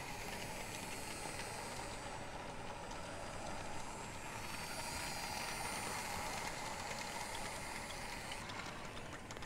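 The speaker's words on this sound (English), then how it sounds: "This toy train is kind of soothing, actually." A toy model train runs along its track in Life Is Strange 2, a steady mechanical clatter and hiss that continues without pause at a quiet level.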